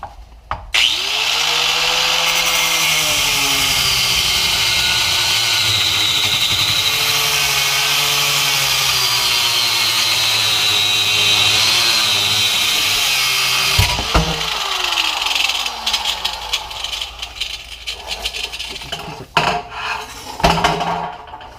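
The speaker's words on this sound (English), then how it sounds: "I've got to cut the bolt head off so I can free this step rail from the mounting brackets." A power tool cuts rusted bolt heads off a Toyota Tacoma step rail: a loud, continuous, strained grinding whine for about fourteen seconds, then it stops and scattered metallic clanks and knocks follow.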